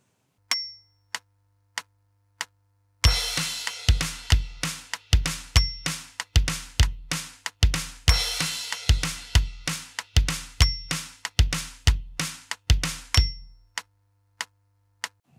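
A drum kit plays the chorus groove of a song, with the bass drum delayed on beats two and four. A few sparse ticking clicks come first, then a loud, steady run of hits.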